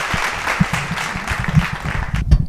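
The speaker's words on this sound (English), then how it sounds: "Where did that crowd come from?" Crowd applauding in a steady wash of clapping, moderately loud and close, with a few sharper claps standing out over roughly two and a half seconds.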